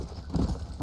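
A horse in Red Dead Redemption: Undead Nightmare moves in a brief burst of muffled hoof thuds and clopping, a single short impact cluster.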